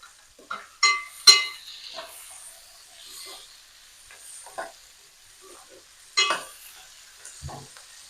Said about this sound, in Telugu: నేను ఇప్పుడు దీంట్లోకి టమాటాలు వేసేస్తున్నా